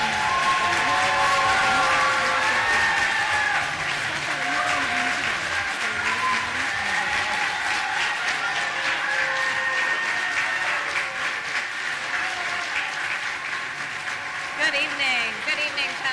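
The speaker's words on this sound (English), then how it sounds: "And they're getting the applause out now." Audience applause greeting candidates Ralph Northam and Tom Perriello at a Virginia gubernatorial debate in Roanoke, a long, loud, sustained wash of clapping with a voice speaking over it near the start.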